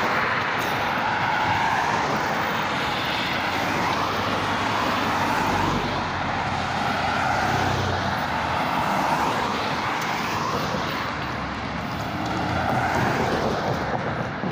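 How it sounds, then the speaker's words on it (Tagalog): Fast cars rushing past on a busy road, a continuous loud roar of traffic with swells as vehicles pass close by, steady throughout with no talk. "Dahan-dahan dyan, mabibilis yung mga sasakyan."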